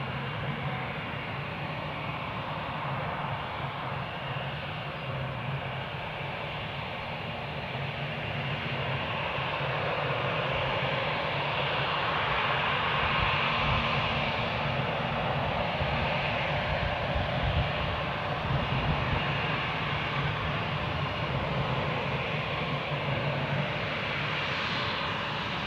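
Boeing 787 Dreamliner lining up at Newcastle airport, a long steady jet engine rumble that grows slightly louder midway and holds on without talk.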